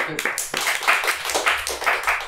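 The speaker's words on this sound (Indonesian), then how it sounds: "Yuk, tepuk tangan." A crowd at a promoter's event announcing the MP3 Fest concert in South Kalimantan claps in a quick burst, with a voice speaking at the start.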